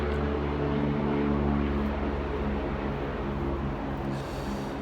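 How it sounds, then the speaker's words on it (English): Steady low rumble of engines and passing vehicles, a dense continuous wash of London street traffic noise with no distinct events standing out. "Sorry about the background noise. This is London."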